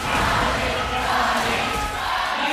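An esports arena crowd roars and cheers for ONIC during a Mobile Legends MPL Philippines match, a loud, sustained wash of many voices.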